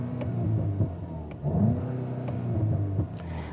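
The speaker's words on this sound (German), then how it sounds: "Da hört ihr ein schönes Zwischengas probbeln." Golf GTI TCR engine idling in sport mode while the throttle is blipped, a deep burbling rumble with a few short rising revs and popping crackles, close and steady, no voices.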